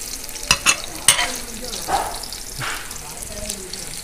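Small chopped onions fry in a pan for kizhi porotta filling, a soft steady sizzle with a few sharp clinks and stirring scrapes near the start, faint background noise throughout.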